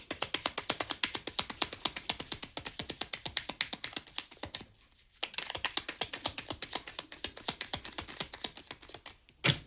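Tarot cards being shuffled, a fast train of close, crisp clicking flutters repeating steadily, with one brief pause midway, no voice over them.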